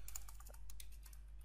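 Quick, steady typing of a web address on a computer keyboard, faint close key clicks in a continuous run over a low steady hum.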